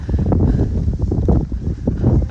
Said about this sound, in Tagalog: Grabe ang hangin dito guys.